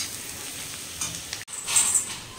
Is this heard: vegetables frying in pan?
yes